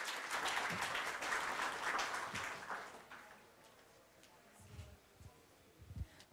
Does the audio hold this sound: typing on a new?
no